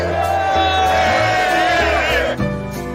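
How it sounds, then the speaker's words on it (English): A Buffalo Bills crowd shouts and whoops together in a loud, sustained, voice-heavy swell that drops off sharply near the end. "Look at this crowd."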